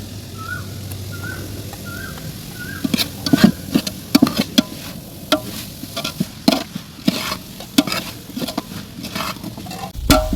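Maggi noodles with chopped boiled egg frying and being stirred in a pan, a steady sizzle broken by frequent sharp scraping strokes of the spatula, close and fairly loud, with faint bird chirps early on.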